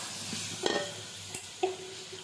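Ginger garlic paste sautés in a pan with a low, steady sizzle, broken by a few soft scrapes and clinks of a spoon stirring against the metal.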